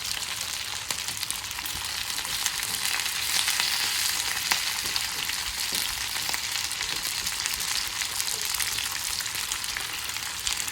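Steak sizzles and fries steadily in rendered fat and grease on a stovetop, a dense continuous crackle with no voices.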